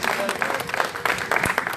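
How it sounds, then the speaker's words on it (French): Audience applause at a pastors' anniversary celebration, dense, busy clapping from a crowd with voices mixed in and a few sharper claps standing out. "Applaudissez madame, s'il vous plaît."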